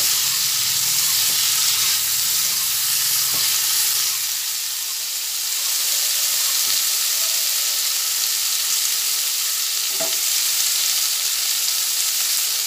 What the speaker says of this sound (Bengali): এরপরে ভালো করে ভেজে নিচ্ছি।